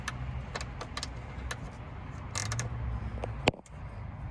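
Light metallic clicks and rattles from a wrench loosening 10 mm bolts on the battery tray of a 2010-2011 Toyota Camry, several quick taps with a sharper clunk near the end, close and fairly quiet in a garage.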